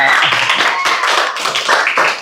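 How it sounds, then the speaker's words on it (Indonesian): A school class clapping hands together in an eighth-grade social studies lesson, loud and close, a dense rhythmic patter of many hands with brief pauses. "Ya, tepuk tangan tuh G Pak"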